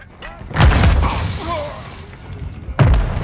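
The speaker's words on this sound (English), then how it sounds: "Hostile mortar strike in the area." Mortar strikes hit during a Call of Duty: Modern Warfare match, two heavy booming explosions a couple of seconds apart, the first followed by a rumbling tail and debris.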